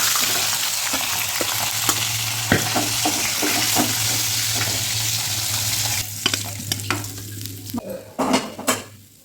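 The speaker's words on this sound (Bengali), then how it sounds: "সবই মাছ আমি দিয়ে দিলাম, একটু ভাজা হোক।" Hilsa fish pieces frying in a pan give a steady close sizzle with scattered clinks and scrapes of a utensil, and the frying thins out near the end as the pieces are stirred and lifted.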